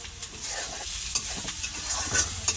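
Onions frying and being stirred in a pan for a home-cooked beef tripe dish, a steady close sizzle with sharp scrapes and clatters of the spoon against the pan.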